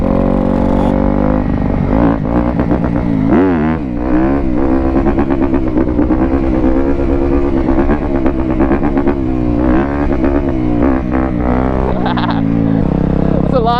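A 125cc two-stroke dirt bike is ridden and revved hard, its loud buzzing engine rising and falling in pitch throughout, with voices talking over the noise.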